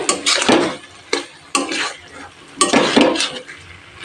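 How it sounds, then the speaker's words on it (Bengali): Fried vegetables stirred in a pan over low heat for a vegetable korma, a spoon scraping and clattering against the metal in several close, irregular bursts with short pauses between. "1-2 মিনিট নেড়ে নেব লো হিটে।"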